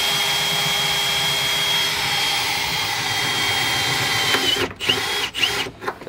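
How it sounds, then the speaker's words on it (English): A power drill whines steadily and loudly for several seconds, then stutters in short bursts as it bites through metal while mounting a transmission and driveshaft in a K24-swapped Subaru BRZ, nearby. "drilling those holes through"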